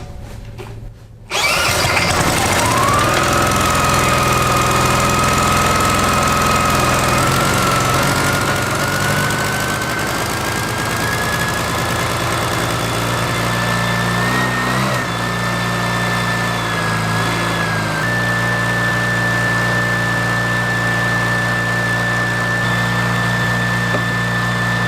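A retired military generator engine runs steadily after a brief startup burst, a loud, continuous near drone with a rising whine layered over it and no talking.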